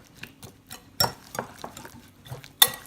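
A cracked egg being mixed in a bowl for a loaded omelette, sparse clicks and light clinks of a utensil against the bowl with a few sharper knocks, close and quiet, no talk.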